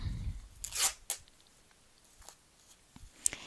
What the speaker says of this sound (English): can tear right through the backing paper